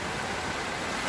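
Rain falling steadily onto a truck's outdoor kitchen in Pará, Brazil, a continuous soft hiss of drops and drips at moderate distance with no talk.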